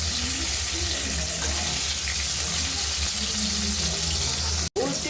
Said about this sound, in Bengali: উল্টিয়ে অন্য পিস ভেজে নেব